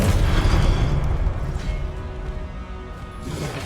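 A Confringo fire-blast spell going off in Hogwarts Legacy, a loud, close explosion with a heavy low boom and crackling debris that gradually rolls off and fades over a few seconds.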